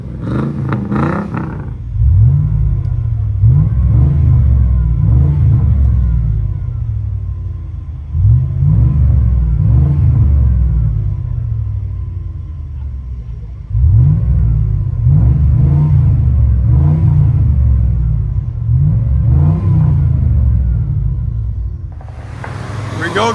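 A 2002 Chevy Express 1500 with a 5.7L V8 and Flowmaster Flow FX exhaust, heard from inside the cabin, gives a loud, deep rumble that swells with repeated revving and acceleration pulls, then settles between bursts.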